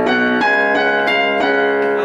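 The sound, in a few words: piano playing a song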